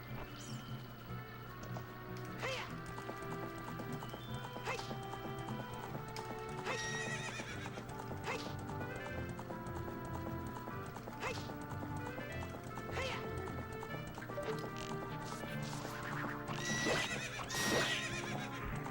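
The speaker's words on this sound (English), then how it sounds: "I should not read chat while riding Epona" Epona the horse from a Zelda game gallops with steady clip-clop hoofbeats and whinnies several times, all set against continuous game music.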